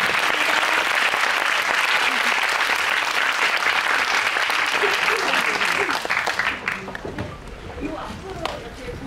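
Audience at a Korean film screening and Q&A event applauds loudly and continuously, a dense wash of clapping that thins into scattered claps near the end, with voices murmuring underneath.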